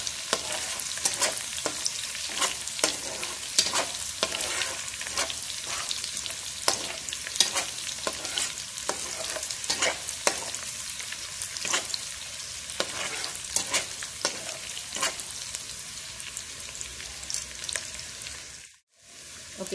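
Onions sizzling in oil with dried shrimp, garlic and ginger, the base for an eggplant pajeri. A steady close crackle runs throughout, with rhythmic spatula taps before it cuts off at the end.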